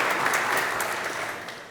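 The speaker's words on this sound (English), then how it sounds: "A big round of applause for Nancy" A conference audience claps for Nancy, a Labrador brought on stage at a summit fireside chat, dense sustained applause that fills the room and slowly tapers off.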